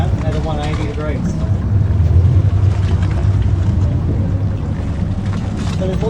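Twin Yamaha F200XSA outboards on a boat fitted with the Helm Master EX joystick system rumble continuously as the hull spins 180 degrees in joystick mode, a loud, close drone mixed with wind and water noise.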